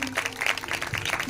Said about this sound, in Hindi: भाई के लिए तालियां बजाते हैं